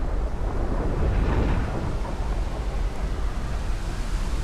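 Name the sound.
heavy rain and thunder sound effect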